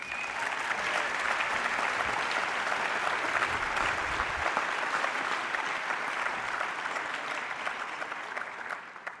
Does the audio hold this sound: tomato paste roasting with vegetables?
no